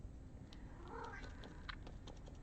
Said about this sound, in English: I have a very needy cat.